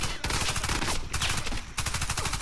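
Automatic weapons fire in the shooter Warface comes in fast, loud machine-gun bursts, several sustained strings of shots with brief breaks between them, up close.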